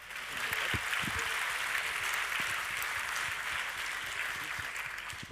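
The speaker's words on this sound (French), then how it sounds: "Et un tonnerre d'applaudissements pour notre premier lauréat, s'il vous plaît." An award-ceremony audience at the Trophées des Entreprises du Puy-de-Dôme applauds the first winner with dense, steady clapping that holds evenly for several seconds.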